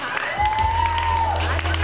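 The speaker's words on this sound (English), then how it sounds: "Get these ladies a round of applause." Crowd at a fight night event at Herman's Hideaway cheering and applauding after a bout, loud and continuous, with a whistling whoop rising over the clapping and voices.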